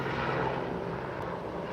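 A helicopter passes overhead on an outdoor road, a steady broadband rotor and engine roar holding loud and close throughout without any talk.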